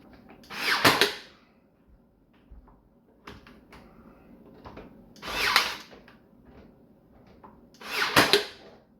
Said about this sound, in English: So I'll go cut these out, sand those